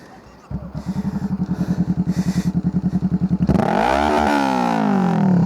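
A vehicle engine on Fraser Island with a sticking throttle chugs at a rough, steady idle, then suddenly surges into a loud, sustained rev that climbs and holds high, close by.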